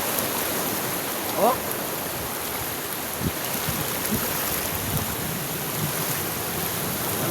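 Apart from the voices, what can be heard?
strong flowing water current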